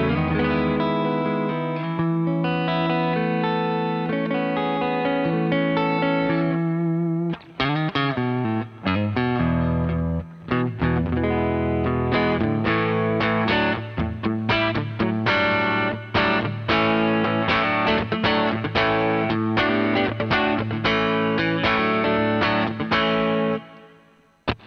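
Duesenberg electric guitar played alone through effects, loud and continuous: sustained distorted chords with chorus and reverb, then quicker strummed and picked passages with brief pauses.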